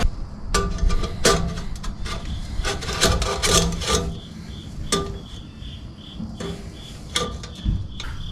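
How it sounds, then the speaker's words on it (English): A hand file works the burrs off a freshly cut exhaust pipe edge, making a string of short, rasping scrape strokes in an uneven rhythm, close and fairly loud, with brief pauses between passes. "Just file all the burrs down."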